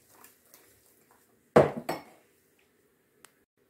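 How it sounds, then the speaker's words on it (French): Pancake batter of milk and other ingredients is whisked vigorously in a bowl, heard as two short, loud bursts of clattering and scraping in an otherwise quiet kitchen, followed by a faint tap. "je vais venir mélanger énergiquement ce mélange"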